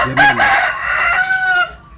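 A rooster crows near a home with a children's play area, one loud drawn-out cock-a-doodle-doo that rises and trails off over two seconds, standing alone without talk.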